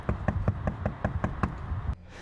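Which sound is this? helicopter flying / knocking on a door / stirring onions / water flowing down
knocking on a door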